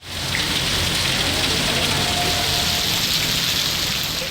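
Heavy rain pours over flooded city roads in Karachi's Malir and Shahrah-e-Faisal areas, a dense, steady hiss of downpour lasting throughout, loud and close with no voices.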